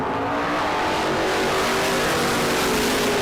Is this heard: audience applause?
no